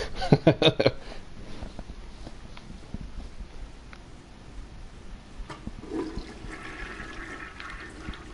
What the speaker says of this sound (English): Oh, you can flush the bog?